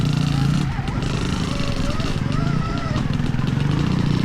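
An 80HP Stark Varg electric motocross bike is ridden on a lap, its motor whine rising and falling over rumbling wind and track noise, with voices talking over it.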